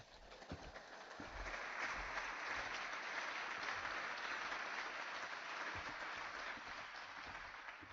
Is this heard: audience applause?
yes